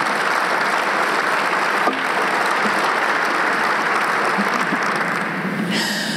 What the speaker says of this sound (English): Let's give Brandy a great round of applause.